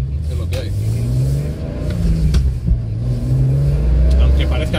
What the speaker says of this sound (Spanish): Aunque parezca que voy acelerado, no lo paso de 2000 y pico vueltas, ¿eh? Que es así el coche.